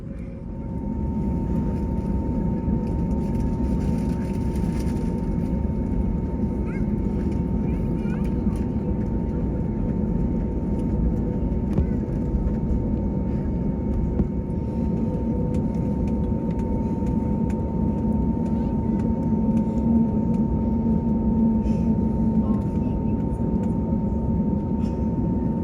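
Inside the cabin of a United Airbus A321neo airliner taxiing to the gate at Chicago, a steady low rumble of engines and airframe carries on continuously.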